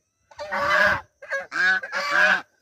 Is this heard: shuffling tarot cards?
no